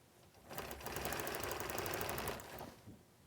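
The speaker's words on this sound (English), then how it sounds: "I'm stitching in the ditch around all of the half triangles and around every seam that's here" A domestic sewing machine quilts a pieced top, stitching in the ditch along every seam around half-square triangles; a steady, rapid mechanical stitching run of about two seconds starts and stops cleanly, close and alone.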